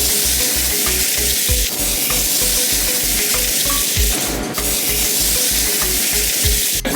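A New York steak sears in very hot olive oil, giving a loud, steady sizzle with a crackling, pulsing texture that runs unbroken for the whole stretch, with no talking.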